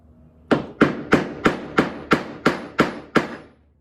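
A mallet taps a dowel into a broken table leg with eight sharp, evenly spaced wooden knocks, close and loud with no speech.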